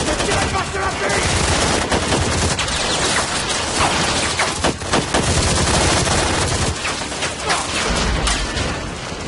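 Heavy sustained gunfire with rapid automatic bursts and booming shots, loud and continuous throughout an action scene, dense and chaotic with little pause.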